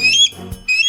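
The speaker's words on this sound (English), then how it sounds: "That's actually a hawk, because real bald eagles, they sound like this." Real bald eagle call: thin, high whistled chirps in two bursts, near and clear, separated by a brief pause with a low thump.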